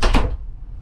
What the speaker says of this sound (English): Let's see you close the door.